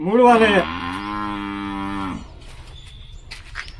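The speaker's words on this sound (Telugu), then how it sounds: "దూడ అదే పని మొత్తుకుంటుంది" A calf lets out one long, loud, drawn-out moo close by, rising then holding steady before cutting off, followed by quiet village background with faint distant sounds.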